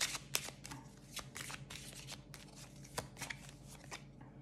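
An oracle card deck being shuffled by hand: soft, rapid riffling and slapping of cards in uneven bursts, close and fairly quiet, with no one talking.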